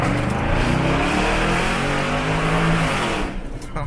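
Porsche Cayenne S fitted with a modified exhaust revs hard up close, a loud, sustained, deep roaring drone that fades away near the end.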